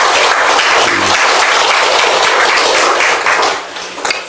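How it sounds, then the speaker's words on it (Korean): Loud, dense applause from a church congregation during a worship service fills the space steadily, then thins and fades near the end. "우리 하나님께 영광의 박수."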